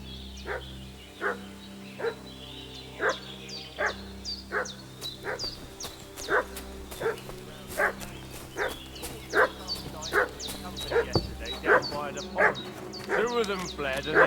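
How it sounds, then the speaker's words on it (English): Dog in the medieval role-playing game Kingdom Come Deliverance 2 barks over and over in a steady, insistent rhythm, fairly close and prominent over low background ambience and music, with a brief spoken line mixed in. "What's that dog making such a fuss about?"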